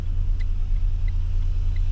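A car reverses slowly while parking, its engine giving a steady low rumble throughout, with a few faint light ticks above it and no talking.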